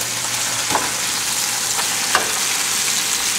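Tomatoes and spinach sizzle in a hot pan as they warm and blister, a loud, constant frying hiss with a couple of soft stirring scrapes.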